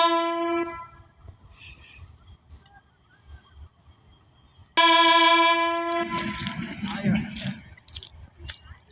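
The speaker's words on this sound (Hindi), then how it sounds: "ये जी अपनी ट्रेन टेक्सला रेलवे स्टेशन से डिपार्ट कर रही है।" A train pulls out of Taxila railway station, starting with a drawn-out horn blast. A second, louder horn follows, then growing rumble and rolling noise mixed with talk and station ambience.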